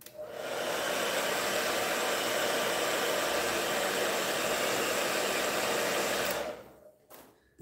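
A hair dryer blows to dry pewter-colored paint on a steampunk stencil, a steady, loud whoosh holding for about six seconds before it switches off and winds down, followed by a few small clicks.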